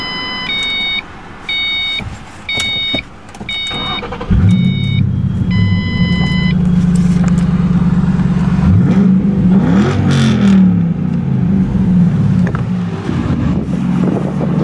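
A 2005 Ford Mustang GT with a V8 and manual transmission fires up and revs loudly after a few short electronic chirps, its deep engine roar rising and swelling in a couple of hard throttle blips before settling.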